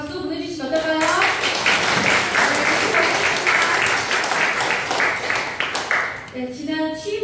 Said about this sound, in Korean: 박수 보내주시면 어떨까요?